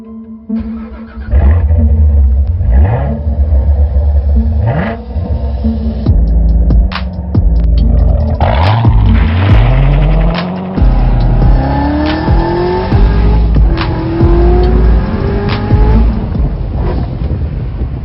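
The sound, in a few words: 2013 Audi RS5 car engine revving and driving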